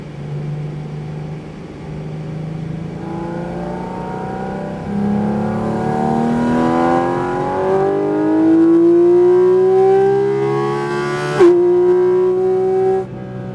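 Porsche Cayman GT4 RS driving on a track, the engine heard from inside as it accelerates with rising pitch through the gears, loud and steady with a brief shift blip.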